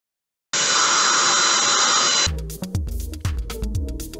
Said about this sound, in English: This was easily solved with an industrial blower.